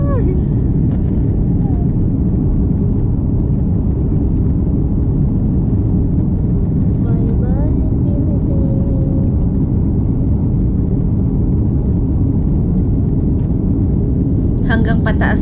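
Inside an airplane cabin climbing after takeoff, a loud, steady low roar of engines and airflow continues throughout, with faint voices murmuring beneath it.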